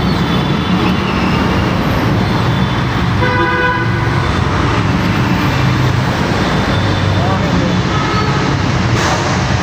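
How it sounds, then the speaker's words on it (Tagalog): Heavy city traffic roars through a tunnel in a loud, constant wash of engine and road noise, with car horns tooting at intervals and a person talking underneath. "Pagkataas sa traffic."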